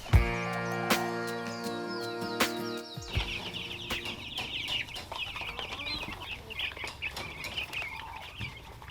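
Chickens cluck and a rooster calls in a farm fowl pen, with layered harmonic calls at first giving way to a busy stretch of overlapping clucks and chirps, fairly close and steady throughout.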